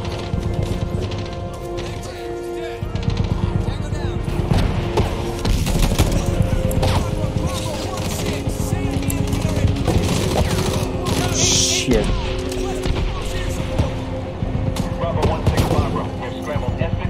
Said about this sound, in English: that's a machine gun up there